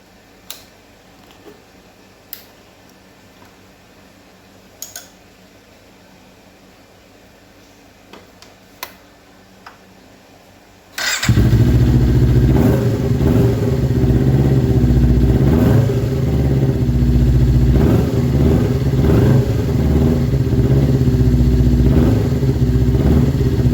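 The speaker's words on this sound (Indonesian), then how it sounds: "Kita hidupin motornya." A 2018 Kawasaki Ninja 250 motorcycle engine starts abruptly after quiet ticking and light clicks, then runs at a steady, loud, close idle with a throbbing low rumble until the end.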